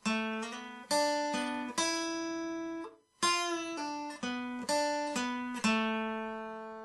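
An acoustic guitar slowly plays the solo line from a song, single plucked notes each ringing and fading before the next, with a brief pause midway.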